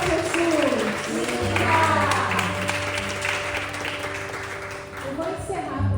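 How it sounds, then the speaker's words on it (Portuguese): A congregation at a Catholic prayer group in Japan claps together, a dense wash of applause beneath sustained keyboard-like tones and voices that carry on throughout. "Vamos aplaudir o nosso Deus."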